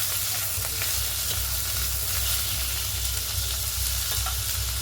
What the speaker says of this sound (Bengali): তো পেঁয়াজটাকে মোটামুটিভাবে ভেজে নেব।